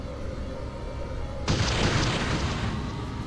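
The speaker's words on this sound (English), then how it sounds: "Yes, Deacon, bombarding. Enemy structure destroyed." A bombardment explosion destroys an enemy structure in the strategy game Ground Control: a single loud broadband boom erupts midway and rumbles on over steady battlefield ambience.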